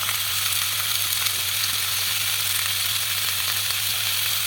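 Cauliflower curry fries in a pan with turmeric powder and salt added. There is a steady, even sizzle and hiss close up, with no voices.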